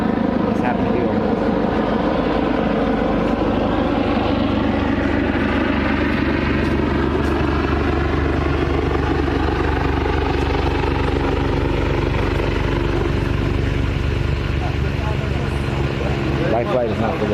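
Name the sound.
life flight medical helicopter flying overhead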